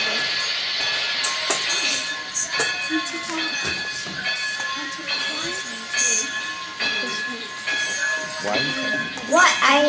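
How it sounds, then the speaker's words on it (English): A steam train, the Polar Express, rumbles and clanks as it pulls away, with hissing steam and bursts of noise over a busy, layered background. "The Polar Express let out a loud blast from its whistle and sped away."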